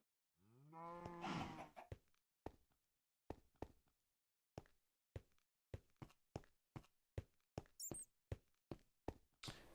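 A Minecraft cow gives one drawn-out moo up close, followed by a steady run of sharp, evenly spaced knocks and thuds like footsteps or block hits, all fairly quiet.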